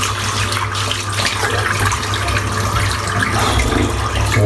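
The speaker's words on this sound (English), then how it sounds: "Rinse the soap out." Tap water runs over a 28mm three-band blonde badger shaving brush to rinse out soap, a steady close gush of running water with slight splashing variation.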